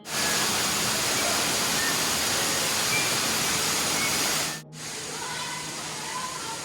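Waterfall at Conkles Hollow in Hocking Hills, Ohio: a steady, loud broadband rush of falling water that dips briefly near the end and then continues slightly quieter.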